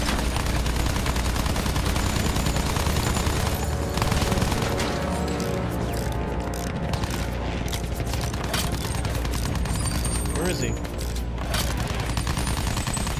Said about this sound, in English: Guy shooting at the bomber.